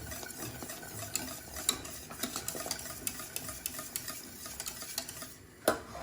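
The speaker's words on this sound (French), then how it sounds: "ونحركو" A spoon stirs lamb seasoned with nutmeg in a cooking pot, giving irregular scrapes and light knocks over a soft sizzle, fairly quiet with no talk.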